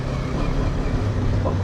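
Kawasaki KLE 500 motorcycle engine in second gear on a dirt trail, a loud continuous low rumble with steady drone and wind, no pauses.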